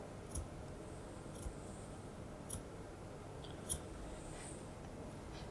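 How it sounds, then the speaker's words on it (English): Grooming scissors snip the hair on a dog's foot, a handful of faint, crisp closing clicks spaced about a second apart over quiet background hiss. "using the tips of my scissors, I'm going to cut on a 45-degree angle"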